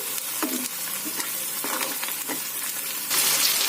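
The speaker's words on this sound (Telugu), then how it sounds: "ఇప్పుడు నేను టమోటాలు వేసుకుంటున్నానండి" Tomatoes dropped into onions frying in a pan for a tomato-onion curry, a steady loud sizzle with stirring scrapes throughout and a brighter hiss rising near the end.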